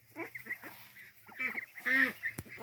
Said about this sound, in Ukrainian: Та є качка-крякалка і мускусний качур.